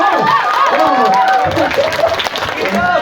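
Applause from students at a high school student council candidates' debate, clapping mixed with crowd noise and cheering, and a loud voice speaking over it.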